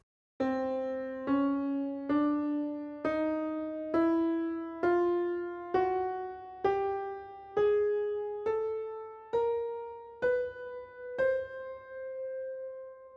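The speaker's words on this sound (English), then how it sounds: "that was me going from C all the way up to an octave above C, playing every note in between" A chromatic scale played note by note from C up one octave to C, twelve evenly spaced steps each rising a semitone, sustained and clear with no talking.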